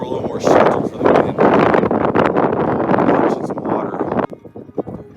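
Strong wind gusting across a mountain summit ridge in New Mexico, buffeting the microphone in loud, uneven rumbling bursts before easing slightly near the end.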